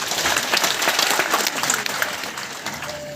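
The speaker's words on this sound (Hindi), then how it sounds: "अगला एग्जाम्पल, ताली बजाइए।" Audience clapping at an RCM business function in Gurunanak Bhawan, Ludhiana: dense, steady applause filling the hall, close and loud, tapering slightly toward the end.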